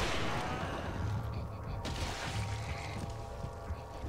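Bursts of gunfire crackle and boom in a busy Resident Evil 4 game soundscape, loud and continuous with no clear pauses between shots.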